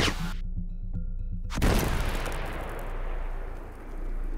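Maverick missiles strike their target in a video game, with a sudden heavy blast and a long rumbling roar that fades over several seconds.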